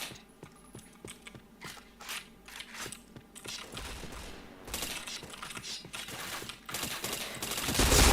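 Gunfire rattles through a shooter video game, with crisp rapid shots and bursts that keep coming and grow denser and louder toward the end, and nobody talks over them.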